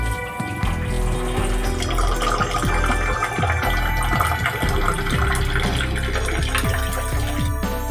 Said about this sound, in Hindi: धो रहे हैं चावल को